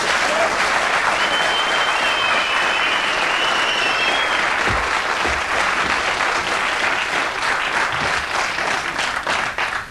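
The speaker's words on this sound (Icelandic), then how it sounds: "Gefum henni annað gott klapp." A studio audience on a 1994 Icelandic television talk show gives a lottery winner a long round of dense, loud applause that holds steady, with a faint voice briefly heard underneath before it tapers at the end.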